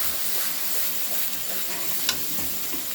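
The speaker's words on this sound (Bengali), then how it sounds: "পেঁয়াজ, লঙ্কা, আদা একসঙ্গে পেস্ট করে নিয়েছি, ভালো করে মিশিয়ে নিচ্ছি" Onion, chilli and ginger paste fries in a pan for a fish kalia, with a steady close sizzle and rhythmic scraping strokes of a spoon stirring it through, plus one sharp clack near the end.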